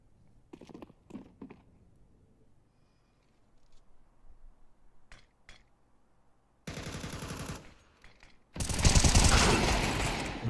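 Gunfire from a Galil rifle and a Desert Eagle in a Counter-Strike grand final match. A few sparse single shots come first, then a loud sustained burst and a second, heavier stretch of rapid automatic fire.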